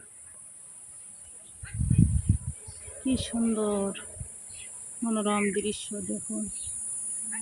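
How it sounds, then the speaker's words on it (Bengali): Crickets in a breezy teak garden keep up a continuous high, shrill drone from start to finish, while someone speaks over it in short phrases. "বাগানে বাতাস যেমন, তেমনি ঝিঝি পোকার ডাক।"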